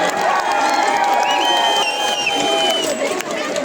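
A school audience erupts in loud, sustained cheering, whooping and clapping for a children's musical dance show about the Buddha, a dense wall of excited voices filling the hall.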